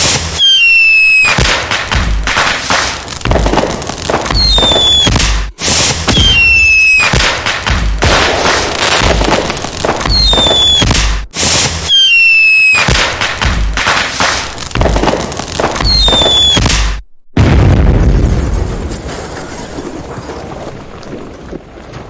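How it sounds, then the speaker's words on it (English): Canada Day fireworks display: repeated loud bangs and crackling bursts with whistling squeals rising between them, a dense barrage of explosions followed by a quieter rumbling tail. "I am always a sucker for fireworks, big and small."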